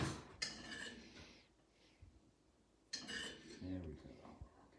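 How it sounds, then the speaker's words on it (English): Metal spoon scraping and clinking against a pan while gathering a wine and butter sauce, two bursts of close scraping separated by a quiet pause, with a low voice faintly present. "I'm going to need a spoon to get that sauce."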